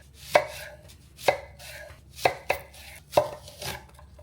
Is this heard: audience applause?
no